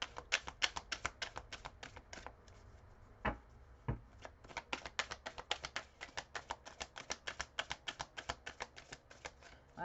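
Rapid riffling tarot card shuffles, a quick run of crisp snapping taps, repeating closely with a brief pause midway, nearby and moderately quiet.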